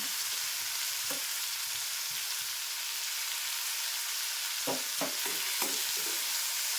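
Two chopped tomatoes fry in hot tempering oil with a soft, steady sizzle, broken by a few spoon-stirring scrapes and knocks toward the end.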